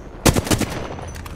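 Bursts of gunfire in the Apex Legends video game, a few sharp close shots in quick succession followed by fainter scattered shots fading off.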